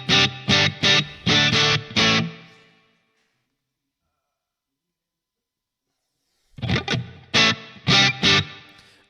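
Electric guitar through a Line 6 POD HD500 modelling a Fender Bassman normal channel with light reverb: two bursts of several strummed chords, each tail ringing out briefly, separated by a long silence.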